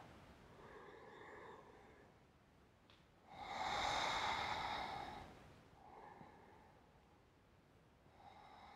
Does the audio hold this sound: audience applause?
no